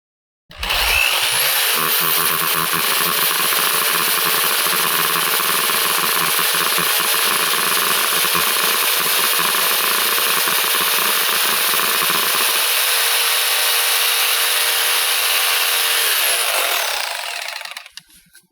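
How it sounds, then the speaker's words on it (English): A hammer drill drilling into pavers gives a loud, continuous whine, grinding steadily for about sixteen seconds, then winding down, with no talking. "hammer drill"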